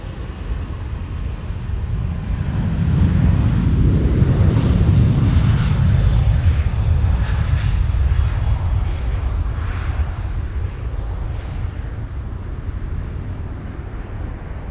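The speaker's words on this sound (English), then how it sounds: "A380 time." An Airbus A380 airliner at Sydney Airport at night roars loudly with a deep, swelling engine rumble that peaks midway and then slowly fades while staying strong, with no voices over it.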